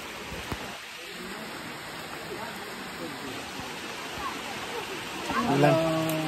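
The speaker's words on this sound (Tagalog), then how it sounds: "Bumalik naman po yung ulan." Rain falls steadily outdoors during a heavy downpour in the Philippines, a constant hiss of drops on surfaces, with a brief voice and a clatter near the end.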